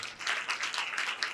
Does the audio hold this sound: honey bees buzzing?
no